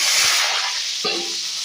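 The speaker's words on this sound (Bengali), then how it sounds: "একটু জিরে গোটা জিরে ফোড়ন দেবো তার সাথে দেবো দুটো শুকনো লঙ্কা ফোড়ন তেজপাতা ফোড়ন" Whole cumin, dried chillies and bay leaf tempering in hot oil, giving a loud, close, continuous crackling sizzle with one brief clunk partway through.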